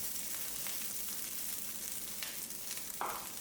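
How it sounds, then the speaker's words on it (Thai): Minced pork sizzles steadily as it is stir-fried with red curry paste for a spicy stir-fry with pickled bamboo shoots, a continuous close frying hiss with faint spatula scrapes and a brief brighter crackle near the end. "เตรียมหมูสับได้เลยครับ โจ๊กจะใส่เนื้อหมูสับ ลงไปผัดกับพริกแกงครับผม"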